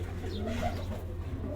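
A pigeon, a top-flying Punjabi racing bird, gives a soft, low coo that carries faintly over a steady background hum.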